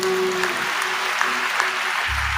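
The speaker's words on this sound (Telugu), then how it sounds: "చప్పట్లు కొడదామా?" A church congregation claps together during a Telugu Christian sermon, a dense burst of applause that fills the short moment evenly from start to finish.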